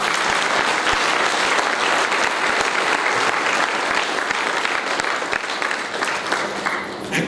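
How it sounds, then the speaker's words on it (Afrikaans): Church congregation clapping steadily and loudly, a dense continuous applause with no voices standing out, lasting throughout. "Klap vir Jesus, bring hom lof."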